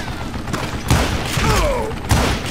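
Mounted gun fire in the Call of Juarez: Gunslinger video game, loud booming bursts arriving in a few separated blasts over a continuous roar of battle noise.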